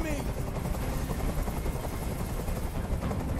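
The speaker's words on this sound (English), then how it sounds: "Tell that helicopter to get out of here." Helicopter rotor in the video game Detroit: Become Human, a loud, steady, rapid thudding chop that fills the whole clip close by, with a voice speaking over it.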